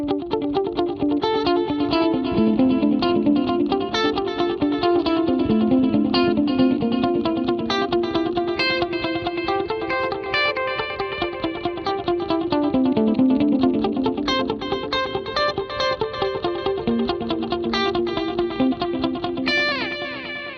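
Electric guitar played as clean chords through an Axe-Fx III preset with a Deluxe Reverb cabinet IR, JFET compressor and feedback-loop effects, ringing with lush stereo modulation and echo, steady and full throughout.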